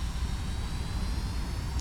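Jet airliner engines roar in a flight simulator game, a steady, dense whine with a deep rumble and thin high tones running continuously without talk.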